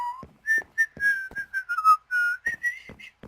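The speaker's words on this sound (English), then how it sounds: "I might as well give it a whistle." A person whistles a tune alone, a series of clear pure notes in short phrases with small breathy gaps between them, close and fairly loud.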